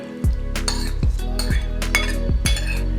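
A zucchini salad tossed with marinade in a bowl, with a utensil repeatedly clinking and scraping against the dish in rhythmic strokes about every half second, close and clear, no voices.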